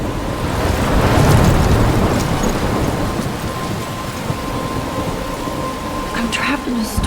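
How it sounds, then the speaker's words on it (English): A heavy rainstorm rolls on in the video game Life is Strange, with steady loud rain and deep rumbling thunder swelling early and then easing into a continuous wet wash. "I'm trapped in a storm?"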